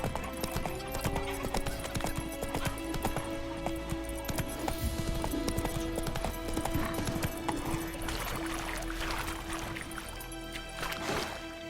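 Roach the horse gallops in The Witcher 3, hooves clip-clopping in a steady fast rhythm close by, with occasional whinnies over a busy game soundscape.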